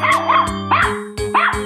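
A dog barks in the video game Animal Revolt Battle: three loud, close barks in quick succession, each with a yelping, whining edge, over a steady low game hum.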